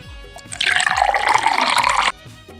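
Liquor poured into glasses, heard as a steady, close liquid stream lasting about a second and a half, with faint background sounds before and after.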